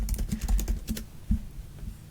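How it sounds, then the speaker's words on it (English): Computer keyboard keys clatter in quick, uneven bursts of close, crisp clicks, followed by a pause and a few scattered taps, with no voices over them. "I'm leaving the keyboard clicking sounds in the edit, by the way."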